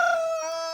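A rooster gives a single short crow close by in the evening, a bright drawn-out call that tapers off, with no other sound around it.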